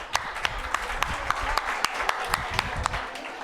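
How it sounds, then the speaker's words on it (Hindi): Audience clapping at an award ceremony for test series toppers, a steady wash of applause with some sharper individual claps standing out, moderately loud with faint voices underneath. "अरे तुम ताली कैसे कम करते हो भाई?"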